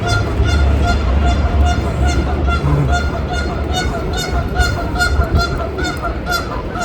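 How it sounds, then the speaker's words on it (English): Canada geese honking repeatedly in a loud, steady chorus outdoors in a Canadian town, with constant low rumbling background noise beneath the calls. "Our beloved Canadian goose."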